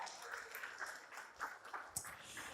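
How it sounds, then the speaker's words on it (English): Wedding guests at a nikah ceremony give a round of applause, sparse, uneven clapping heard faintly with a few sharper individual claps standing out. "once again for Sana, a nice round of applause if you don't mind"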